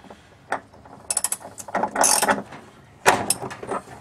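A wrench ratchets in short bursts of clicking while loosening a bearing installation tool on a Maytag Neptune washing machine, close and fairly loud, with brief pauses between the strokes.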